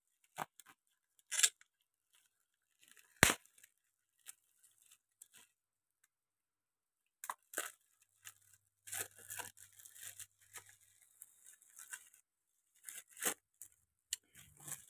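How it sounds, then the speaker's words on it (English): Plastic shrink wrapping is torn and peeled off a sealed Blu-ray box, with sparse, quiet crinkles, crackles and short tearing bursts close by, separated by stretches of near silence. "And I'm going to open the plastic wrapping."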